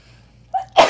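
A single close, loud sneeze, a brief intake followed by a sharp explosive burst.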